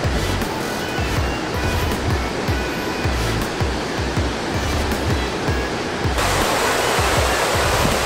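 Bridal Falls waterfall in California roars as a loud, steady rush of falling water, heard close and continuous, with low rumbling gusts throughout.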